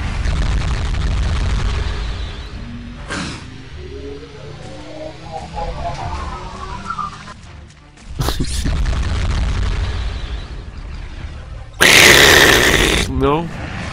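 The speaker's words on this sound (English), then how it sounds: "Maybe I can slow down the explosion." Explosions boom in the video game Advent Rising, heavy low rumbles recurring over roughly fourteen seconds with a sharp loud burst near the end, mixed with game effects and passages where a voice speaks.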